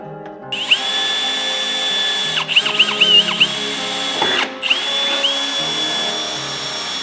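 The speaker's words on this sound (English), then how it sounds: "hopefully then marking where we need to drill the holes" A power drill bores holes into the side skirt of an abandoned Subaru Impreza WRX under rebuild. Several loud, whining bursts come in close succession with brief pauses between them, recorded up close.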